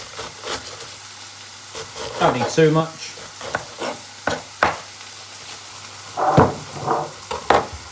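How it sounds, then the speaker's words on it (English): Steak frying in a hot pan gives a steady, soft sizzle under a person's close talk, with a few louder kitchen knocks and clatters along the way. "whilst that's cooking, that steak, it's nearly done."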